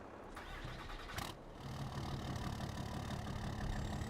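A truck engine in Farming Simulator 22 cranks and catches, settling into a steady, loud mechanical rumble that continues to the end.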